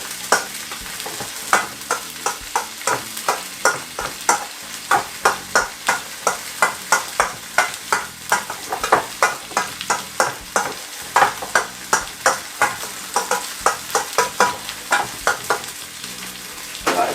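Salmon pan-frying in a hot pan, a continuous sizzle broken by quick, rhythmic scraping and turning clicks from a utensil, close and moderately loud.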